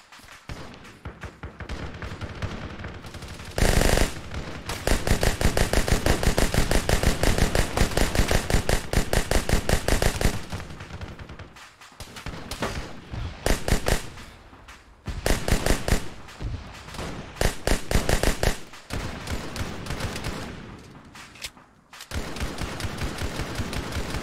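An SMG fires in Halo, dense rapid bursts of automatic gunfire, loud and close, with brief gaps between long strings of shots.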